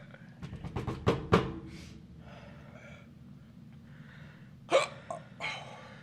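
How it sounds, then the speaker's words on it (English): Several sharp hiccups burst out in a quick cluster near the start, then a louder pair follows a few seconds later, close to the mic over a steady low background hum. "Now I got the hiccups."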